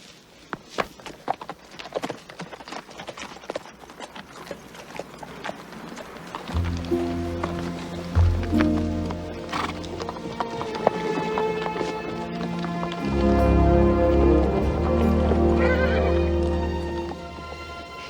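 Horses approaching in an outdoor Western setting, with loud neighing and whinnying over a rising clip-clop of hooves that grows nearer and heavier, mixed with general movement.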